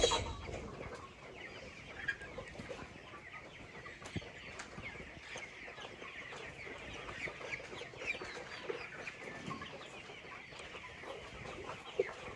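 Chickens and roosters on a home farm cluck and murmur continuously, with scattered sharper calls rising over a steady outdoor bed of fowl chatter.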